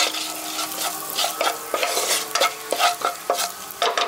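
Cumin seeds and asafoetida fry loudly in hot oil for a village-style brinjal bharta, a dense close sizzle broken by repeated scraping strokes of a spoon against the pan.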